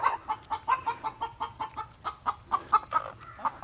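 Chickens cluck in a quick, steady run of short repeated calls, fairly faint and a little distant, with a low background hum beneath.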